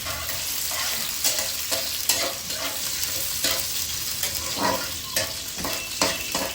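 Whole garam masala, cashews, raisins and peppercorns fry in hot oil, a loud close sizzle broken by repeated scraping strokes of a spatula against the pan.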